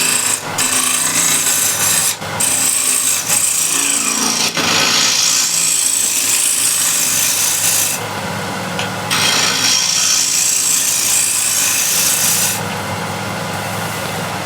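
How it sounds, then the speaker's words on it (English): Hand scraper dragged across an uneven wooden surface in repeated rasping strokes, loud and close, with brief pauses between passes. "Now first step is to just remove this uneven portion. I'll use a scraper for this."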